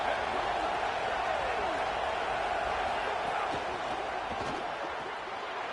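A crowd roars in a college football stadium during a video game match between Tennessee and Alabama. The noise is a steady, loud, building wash on a defensive third down, with commentary over it.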